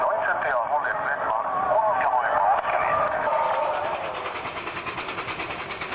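A miniature train at a garden festival rumbles and clatters along its tracks, with a steady rhythmic clicking emerging toward the end; muffled voices and broadcast-like sound from radio aerials blend in early on.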